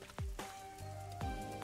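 Rain in a game city at night falls as a few distinct drops. They land sharply and close against a quiet ambient background with faint tones.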